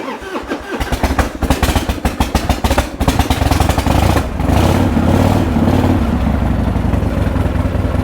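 A Harley-Davidson motorcycle cranks with rapid clattering starter pulses for a few seconds, then catches and settles into a loud, close, lumpy idle with a brief rev, no talk over it.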